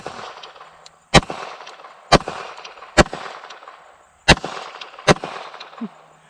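A Glock 19 with a Cross Armory Legion slide fires five sharp shots at irregular intervals on an outdoor range, with ringing metallic impacts on steel targets between reports.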